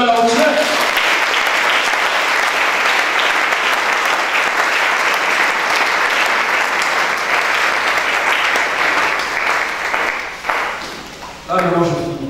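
A church congregation breaks into sustained, loud applause to acclaim the Lord, steady clapping that fills the room for about ten seconds before tapering off as a preacher's voice returns.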